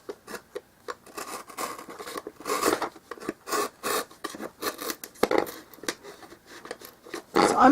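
Rapid rasping strokes of trimming a dollhouse miniature kitchen cabinet piece, close and fairly loud, in quick uneven bursts with short pauses and a few sharper scrapes.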